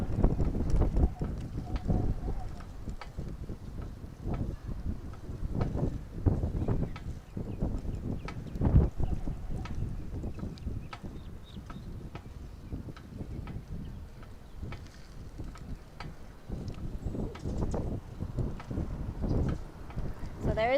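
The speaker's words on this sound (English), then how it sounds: "the wind is definitely picking up" Strong wind gusts outdoors on a Key West back street before a storm, a steady, heavy rumble buffeting the microphone throughout with surges and lulls.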